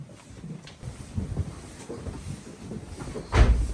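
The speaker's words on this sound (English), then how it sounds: "Please hold the door." A door inside the Krakow salt mine is handled, with soft shuffling and scraping that ends in a sharp thud as it swings shut near the end.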